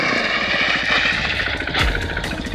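A motorcycle engine runs loudly and steadily, with a few sharp pops and crackles from the exhaust, one louder bang near the end.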